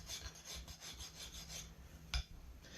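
A hand file rasps back and forth across a soapstone pipe in steady, evenly spaced strokes, close and quiet, with one brief knock near the end.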